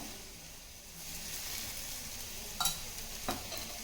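A few drops of oil sizzle on uddina kadubu in a pan, a soft low hiss that swells slightly, with two brief clicks near the end, quiet and without voices.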